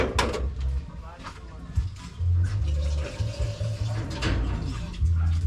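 Tap water runs into a container being filled for heating to make coffee, a continuous splashing flow with a voice speaking over it.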